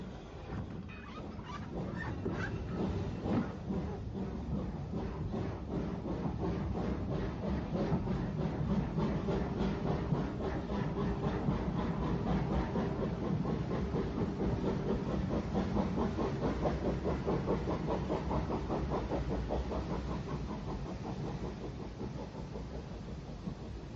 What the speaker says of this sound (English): Number 32, Bonchurch, calls at St John's Road before pulling away for Pierhead.